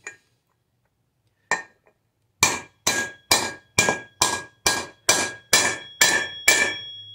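Hammer blows driving bearing races into an MK2 Volkswagen Golf using a socket as a driver, a sharp metallic strike followed by a steady run of about nine evenly spaced, loud, ringing hits, close up with no talking.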